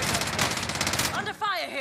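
Rapid automatic gunfire in Call of Duty: Warzone rattles loud and close in one dense burst for about a second, then cuts off as a voice speaks briefly over fainter game sounds.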